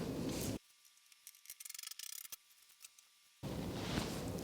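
Scissors snip through jersey fabric near the armpit of a sports jersey, a quick run of small crisp cuts at close range between stretches of quiet.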